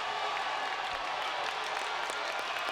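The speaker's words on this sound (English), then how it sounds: "Well, the crowd has come alive here in Atlanta." Boxing crowd in Atlanta cheering and applauding during an overtime-round fight, a dense, steady roar of clapping and shouting that fills the whole stretch at constant loudness.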